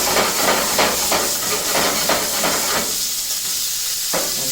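Shrimp flambéed with white wine in a hot pan gives a loud, continuous hissing roar, broken by several rhythmic bursts of sizzle as the pan moves, then settling slightly quieter.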